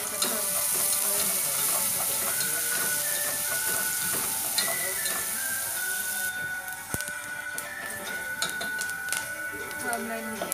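Lemongrass and garlic fry in hot oil in a pan while being stirred, a steady sizzle with scraping and clinks of a utensil throughout.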